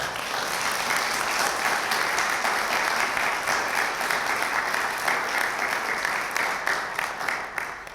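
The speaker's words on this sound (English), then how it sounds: "Let's give another round of applause to Cece Terlouw" Audience applause at the Gender & Social Change Awards ceremony: a steady, dense roar of many hands clapping, sustained evenly throughout at a moderate distance with no talk over it.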